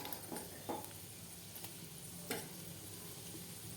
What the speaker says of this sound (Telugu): ఇవి కొంచెం వేగాక ఎండుమిర్చి వేసుకోవాలి.